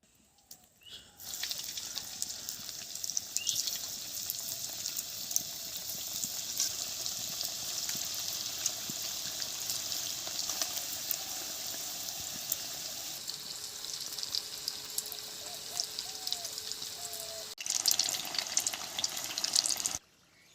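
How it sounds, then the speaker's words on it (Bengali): Potato roll samosa snacks frying in hot oil give a steady, close hiss and crackle that holds for about twenty seconds, with a brief drop in the middle before the bubbling rises again. "এখন ভেজে নেব। তেলটা গরম হয়ে গেছে।"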